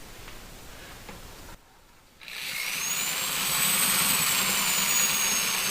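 A drill spins a mixer attachment to circulate wine, its whine starting after a brief pause and rising into a loud, steady high-pitched roar that holds to the end.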